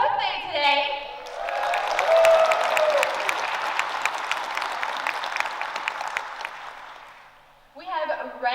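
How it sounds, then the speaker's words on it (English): Audience applause at a gaming convention panel at PAX Aus, a swelling round of clapping that builds and holds, with a host's voice briefly heard before and after. "can we get a bigger round of applause?"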